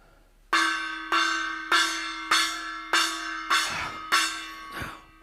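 A single large bell, like a church bell, strikes six times at an even, unhurried pace, each clang ringing out loud and clear before decaying into the next, in a dramatized reading of A Christmas Carol.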